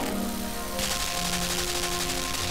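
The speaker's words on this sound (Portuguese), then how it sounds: "Nossa, tomou um tiro nas costas." Gunfire rattles through a scene in the video game Limbo as a loud, dense, continuous burst of rapid shots that holds steady for the whole stretch, with no speech.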